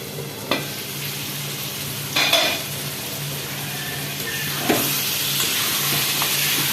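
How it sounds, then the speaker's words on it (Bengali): Soybean chunks stir-fry in masala in a pan with a continuous sizzle, broken by a few sharp scrapes and knocks of a utensil against the pan. "বন্ধুরা সয়াবিনটা ভালো করে কষিয়ে নেবো।"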